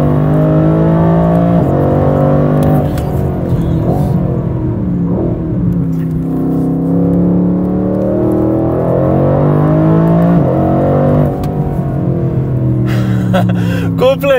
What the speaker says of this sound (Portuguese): Vamos encher o motor, vamos encher o motor na reta agora.